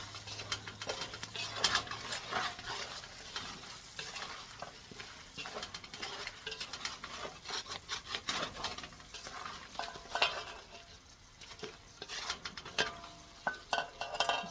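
Shrimp cook in a pan with a soft, continuous sizzle and busy clinks and scrapes of stirring, faint and close, without any voices.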